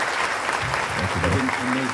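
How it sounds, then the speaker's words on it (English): Broad, steady audience applause at a JITO event in Kenya, with voices talking over the clapping throughout. "Ladies and gentlemen, can we give him a round of applause?"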